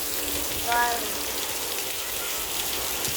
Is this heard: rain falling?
yes